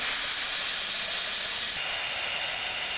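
A house air conditioner hisses after being shot, giving off a loud, steady rush like escaping steam or gas that continues without a break.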